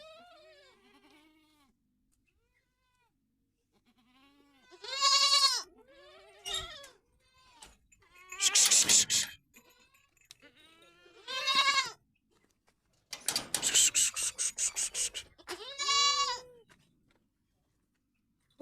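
Goats on a goat farm bleat loudly and close by, a series of wavering, drawn-out calls separated by short quiet gaps.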